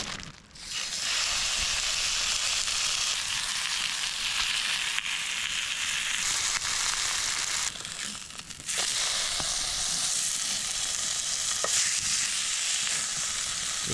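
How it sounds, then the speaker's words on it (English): Steak sizzles and fries in olive oil in a pan at an outdoor wilderness campsite, a continuous close crackling hiss with brief dips and occasional sharp pops. "Let's get the steak in now"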